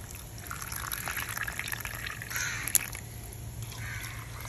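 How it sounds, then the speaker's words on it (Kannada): Water poured into a bamboo tube for bamboo chicken biryani, a soft continuous trickling and filling sound, quiet and close, with no talk. "ಈಗ ಇದಕ್ಕೆ ನೀರನ್ನು ತುಂಬಿಸುವ."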